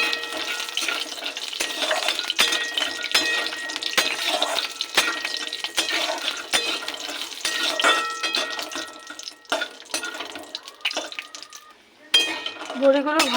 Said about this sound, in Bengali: গরম তেলে এই ঘরে বানানো বড়িগুলো দিয়ে দেবো। ডালের বড়ি দিয়ে ভেজে নেব।